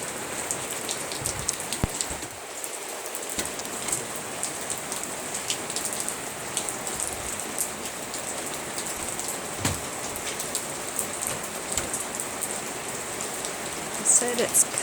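Steady rain falls outdoors in a yard where small pomsky dogs play, a continuous close patter of drops on surfaces with a few sharper splashes, some distant thunder possible, and no talking.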